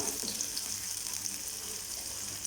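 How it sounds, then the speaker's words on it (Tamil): Shallots sautéing in a pan make a soft, even sizzle that holds steady throughout at low volume. "இப்போ வெங்காயம் சேர்த்து லைட்டாக வதக்கிக்கோங்க."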